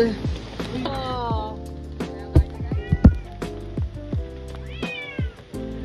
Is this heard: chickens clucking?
no